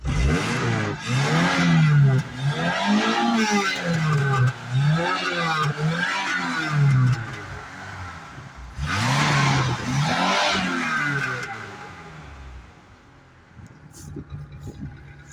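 Opel Corsa engine running on LPG, idling close by with a rhythmic, pulsing drone that rises and falls in repeated waves, then eases to a quieter, rougher idle near the end.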